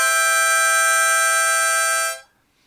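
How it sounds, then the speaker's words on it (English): A Hohner Special 20 C harmonica sounds a blow note on holes 5 and 6 together, a bright, steady sustained chord held for about two seconds before cutting off, close and alone. "we're gonna start with a blow note on the holes 5 and hole 6"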